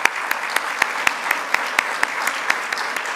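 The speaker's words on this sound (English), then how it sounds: "we'll give you a round of applause." An audience gives a round of applause at a community charity event: dense, sustained clapping from a crowd, with sharp individual claps standing out through it.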